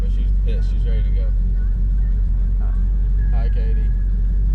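A Chevrolet El Camino engine idles in traffic after a two-hour drive, giving a heavy, steady low rumble that runs throughout, with voices talking over it.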